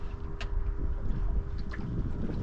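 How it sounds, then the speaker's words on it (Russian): Low rumbling wash of a catamaran moving across water, heard from a small boat, with wind buffeting the microphone and faint splashes. "Фига себе какой. Катамаран такой идет."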